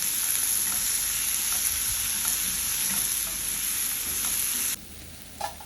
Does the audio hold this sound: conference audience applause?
no